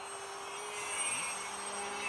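A Star Trek–inspired radio-controlled starship flying model whines steadily overhead, a continuous engine tone with a slight pitch bend as it passes, moderately near and alone.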